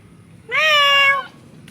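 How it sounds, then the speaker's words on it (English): A kitten outdoors in the rain gives a single clear, close meow, rising then holding steady before trailing off, with quiet rain-like background noise around it. "Oh, look, the kittens."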